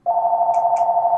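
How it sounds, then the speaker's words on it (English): A telephone rings with a loud, steady electronic tone that starts abruptly, sounds close and continuous, and has a couple of faint higher blips over it. "Pick up the phone."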